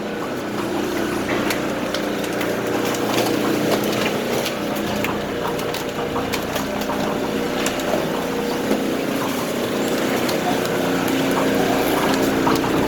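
A tapered auger grinds its way out from under a pile, giving a loud, steady mechanical drone with a churning texture that runs unbroken throughout, with no talking.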